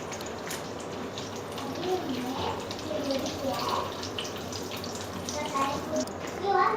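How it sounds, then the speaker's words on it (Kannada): Curry leaves hit hot oil for a fish fry and set off a steady hissing sizzle with light crackles, while a voice talks over the cooking. "ಎಣ್ಣೆ ಬಿಸಿ ಆಗಿದೆ. ಮೊದಲಿಗೆ ನಾವು ಒಂದು ಸ್ವಲ್ಪ ಇದಕ್ಕೆ ಕರಿಬೇವು ಹಾಕ್ಕೊಳ್ಳೋಣ."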